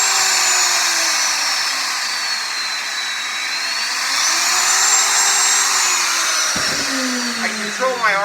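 A plugged-in router with variable speed from 8,000 to 24,000 RPM runs continuously, loud and close, its high motor whine drifting up and down in pitch and dipping briefly near the end.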